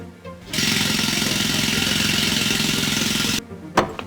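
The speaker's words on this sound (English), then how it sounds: "And one's working with an air hammer?" A game sound effect from Operation Odin, a 1996 Windows 3.x title: an air hammer rattles in one loud, rapid, steady burst lasting about three seconds, then stops abruptly, followed by a brief clunk.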